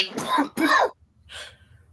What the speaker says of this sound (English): the name literally gave me a coughing fit